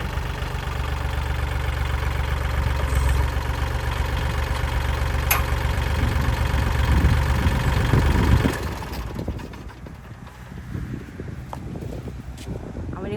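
Used Kubota L3208SP tractor, a 2015 model, engine running at a dealer yard: a steady close mechanical idle with wind buffeting the microphone, which drops away after about eight seconds, leaving quieter outdoor ambience.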